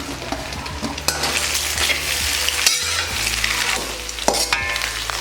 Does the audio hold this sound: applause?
no